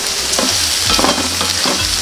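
Snake gourd frying in a pan, a steady bright sizzle with stirring scrapes, close and loud, no voices.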